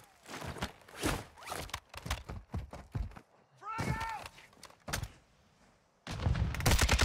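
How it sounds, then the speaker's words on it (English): Several sharp gunshot bursts from Warzone 2 combat, scattered across the stretch amid game effects, with a loud burst near the end and voices talking over parts of it. "No, he's shooting me."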